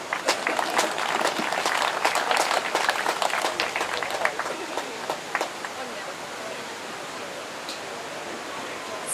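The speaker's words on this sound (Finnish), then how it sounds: "Eiköhän oteta uudet aplodit." A crowd at the Anianpelto market in Vääksy applauds a contest winner taking the stage. Dense, steady clapping fills the first half, then thins and fades toward a quieter murmur.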